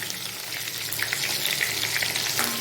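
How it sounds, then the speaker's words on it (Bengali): Katla fish pieces fry in hot oil, a dense continuous sizzle with crackling pops holding steady and close, slightly swelling toward the end, heard alone without speech. "এবারে মাছগুলো আমার ভাজা হয়ে গেছে। আমি এবার তুলে নিই।"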